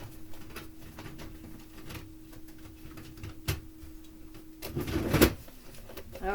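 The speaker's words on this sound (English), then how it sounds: "Let me print the label again." A label printer runs while printing a shipping label, giving a low steady mechanical hum with a few clicks, then a louder feed and clatter near the end, close and quiet.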